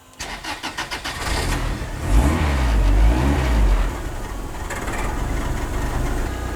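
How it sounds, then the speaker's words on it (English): An engine cranked by a starter, with rapid chugging pulses before it catches and roars, then settles into a steady running drone as it warms up, heard nearby with no talk. "press the starter, turn it on, let it warm up to 160"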